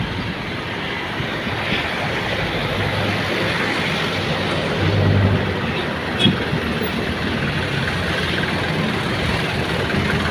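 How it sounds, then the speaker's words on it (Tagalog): Large trucks and other heavy vehicles run their engines on a road, a steady broadband rumble that holds for the whole stretch and swells slightly midway, with no voices. "malalaking sasakyan"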